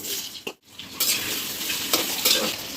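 Potatoes sizzle in hot oil in a wok, with crackling frying and the scrape and clatter of a utensil stirring, broken by a brief pause near the start, no voices.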